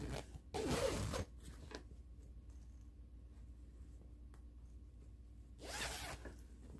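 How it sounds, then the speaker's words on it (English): Two bursts of zipper noise, a longer quick run near the start and another several seconds later, with a quiet stretch between. "I need to zip it all the way around and then zip it open."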